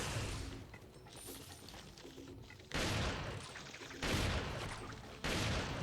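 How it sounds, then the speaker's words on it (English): Shotgun blasts in the video game Resident Evil 4, with three loud, sharp booms at spaced intervals over a constant background of game noise. "There was so many gunshots. Shotgun blast at that."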